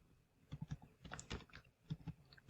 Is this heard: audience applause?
no